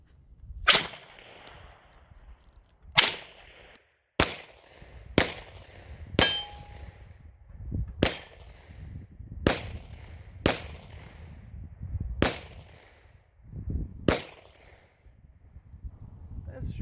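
Eleven sharp, loud shots from a Cyelee Wolf X Pro fire at uneven intervals, each a crisp snap with a short tail, standing alone over a low background rumble.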